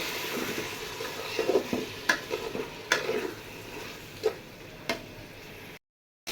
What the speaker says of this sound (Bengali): সসটা দিয়ে দিয়েছি, এখন সবজির সাথে মিশিয়ে নেব।